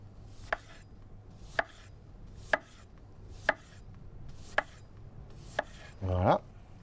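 A kitchen knife slices daikon radish into half-centimetre rounds on a board: six crisp, evenly spaced chops roughly a second apart, close and clear, followed by a brief scraping rub.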